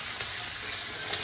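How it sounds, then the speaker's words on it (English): Fish frying in a pan for a Malayali-style fish curry, a close, steady hiss and crackle of hot oil sizzling continuously with no voices over it. "fish fry going on"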